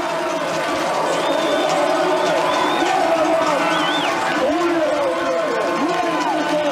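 Swedish crowd at a ski race roars in sustained cheering and whistling after a run, a dense wall of voices with a spoken voice running over it throughout.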